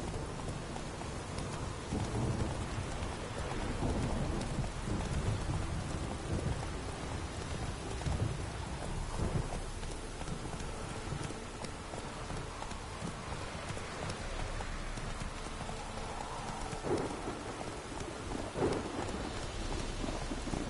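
A horse galloping through a rainstorm in The Witcher 3, with steady heavy rain and rumbling thunder filling the scene and hoofbeats blended into the downpour.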